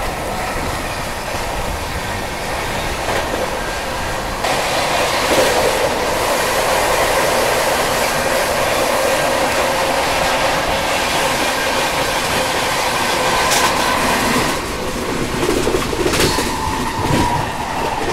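The New Delhi–Ranchi Rajdhani Express runs at speed, its carriage rumble and rail noise continuous and loud from inside the train, with rhythmic clickety-clack over joints and a brief bird call near the end.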